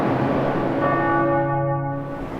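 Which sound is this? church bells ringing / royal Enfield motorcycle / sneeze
church bells ringing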